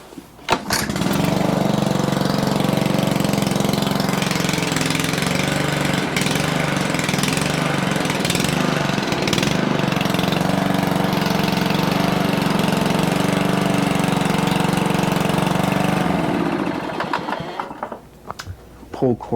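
A small Honda engine with a repaired recoil pull cord starts on a pull and runs loudly and steadily close by, a dense buzzing drone that holds for most of the time before cutting off near the end.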